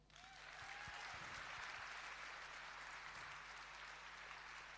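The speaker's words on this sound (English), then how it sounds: "Give him a round of applause." Sustained audience applause at England's Strongest Man 2025, a dense steady wash of clapping from a crowd that swells in quickly and holds for several seconds.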